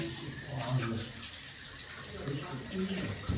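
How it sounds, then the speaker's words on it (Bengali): Tap water running while a tea cup is washed at a sink, a steady faint splashing stream with light clinks, heard close for a few seconds. "এই যে কাপ ধুয়ে দিচ্ছে।"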